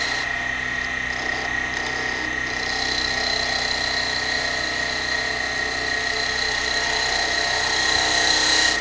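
Wood lathe spinning while a spindle is turned into Christmas bells, a continuous steady whine and hum with faint tool contact, no talk.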